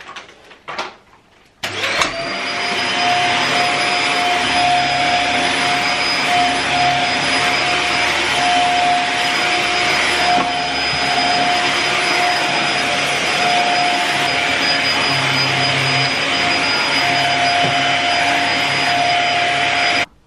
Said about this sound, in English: So hoovering's done